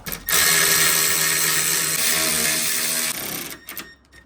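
Power tool driving 10 mm bolts into the top of a 4th-gen RAM 1500 grille insert, a loud close continuous whine for about three seconds, then a short drop in pitch and a few brief taps as it stops.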